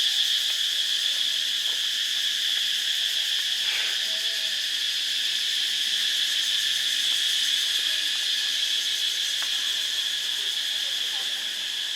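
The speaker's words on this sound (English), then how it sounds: "Lots of bugs flying around." Crickets and other insects trill in a dense, unbroken chorus on a night in Luang Prabang, Laos, steady and fairly loud, with a few soft scattered clicks.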